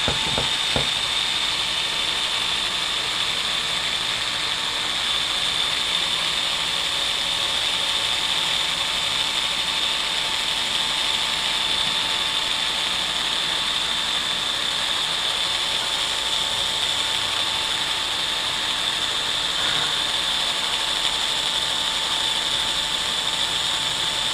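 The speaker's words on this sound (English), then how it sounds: "put some PB Blast in there as a lubricant for my hone. And I get in here and I hone that out." A hone lubricated with PB Blast works inside a valve body bore, giving a steady, loud mechanical whirring and ratcheting drone that runs continuously and close up, with no talk.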